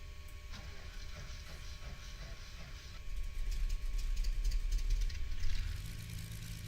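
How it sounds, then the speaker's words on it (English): A twin-engine aircraft's number two engine cranks and catches in a Prepar3D flight simulator, a steady idling hum swelling into a louder, rougher rumble partway through, alone without talk. "let's go ahead and start engine 2"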